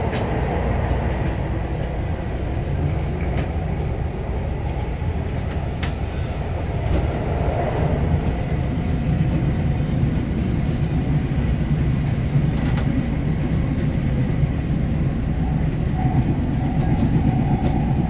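A MARTA Gold Line metro train runs steadily on the rails from Airport toward Lindbergh Center, heard from inside with a constant loud rumble, rhythmic clicks over track joints and occasional squeals.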